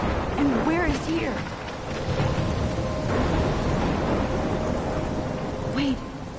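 Thunderstorm in the video game Life is Strange, a steady wash of heavy rain and low rumbling thunder filling the whole scene, with a voice speaking over it.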